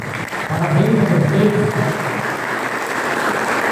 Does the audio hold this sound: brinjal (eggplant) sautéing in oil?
no